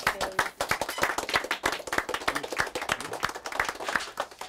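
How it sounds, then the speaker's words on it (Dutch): A small group claps at an award ceremony, individual handclaps distinct and close, moderately quiet and irregular, like a modest gathering rather than a large hall. "Applaus."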